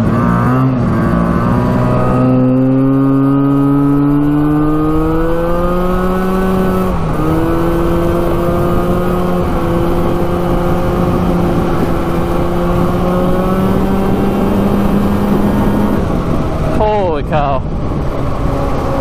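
A street-legal 340cc two-stroke trike screams at top speed, its loud engine note climbing steadily and staying close and continuous for most of the run before easing off near the end, with voices over it.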